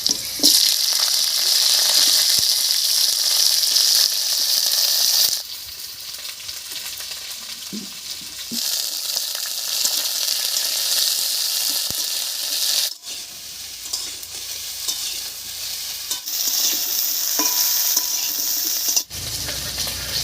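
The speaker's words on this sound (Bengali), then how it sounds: "বেশ কিছুক্ষণ নাড়িয়ে চাড়িয়ে ফুলকপি আর আলুটাকে একটু ভাজা ভাজা করে নিয়েছি" Cauliflower and potato pieces frying in hot oil with crushed garlic in a pan, a loud continuous sizzle broken by several scraping stirs, with the hiss dropping and rising as the pieces are turned.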